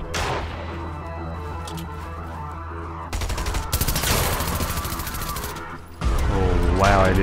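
Video game gunfire in a shooter, bursts of rapid automatic fire breaking out loud and close, with a long sustained spray and another burst at the end, mixed with game sounds and music.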